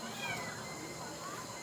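A cat meows a couple of short times close by, mixed in with people chatting in the same room.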